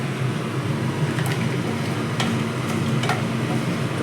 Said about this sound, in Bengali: মশলাটা ভাজা হয়েছে, লঙ্কার কালারটাও চেঞ্জ হয়ে গেছে।